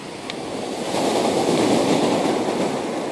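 Large ocean waves roll and crash in a loud, continuous roar of surf that swells and builds midway, a broad rushing wash of water with no voices.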